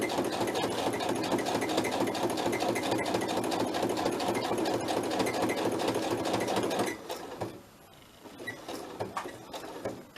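A sewing machine stitching through paper whirs in a fast, steady mechanical rattle for about seven seconds, then stops, leaving quieter handling noises.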